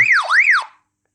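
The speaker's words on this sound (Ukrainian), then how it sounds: "Є Ось така функція сигналізації, блимає фонарик, Оце червоним і зеленим одночасно блимає сирена." Alarm siren from a Baofeng IP68 armored walkie-talkie, a loud electronic tone sweeping up and down in two quick wails that stops cleanly after under a second.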